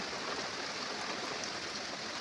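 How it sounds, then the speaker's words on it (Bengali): Heavy rain pours down steadily, a dense unbroken hiss of falling water with no pauses and no voices. "দেখো খুব জোরে বৃষ্টি হচ্ছে"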